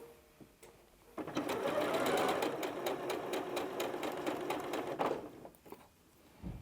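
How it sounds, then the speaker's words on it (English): A sewing machine stitches through scrap fabric and then a quilt strip in one steady run of about four seconds, a close, fast rattling whir that starts and stops abruptly amid quiet handling noises. "So now we're going to sew."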